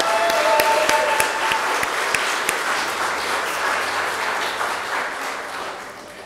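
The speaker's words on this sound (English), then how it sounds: "let's just give a round of applause for everybody." A church congregation applauds during a Sunday service: a sustained, fairly loud wash of many hands clapping that holds steady for several seconds and eases slightly toward the end, with no talking over it.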